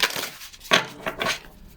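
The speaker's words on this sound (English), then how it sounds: "I'm gonna put the card back into the deck and give it a shuffle for you" A tarot card deck being shuffled by hand, giving a few brief papery riffles and soft slaps close by, with no talking.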